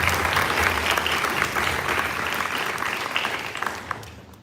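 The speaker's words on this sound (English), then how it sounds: "Can we have a huge round of applause for him once again?" An audience at a school sixth form leadership summit gives a sustained round of applause, loud and dense at first, then thinning and fading out toward the end.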